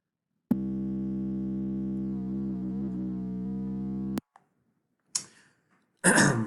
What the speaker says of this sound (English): it has the sine wave in it